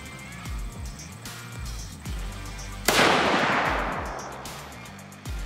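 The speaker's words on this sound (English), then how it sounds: "So we just shot our first round" A single loud, close gunshot from a .223 Remington 700 rifle at a 25-yard range, a sharp blast followed by a long ringing decay, with a few soft knocks and handling sounds before it.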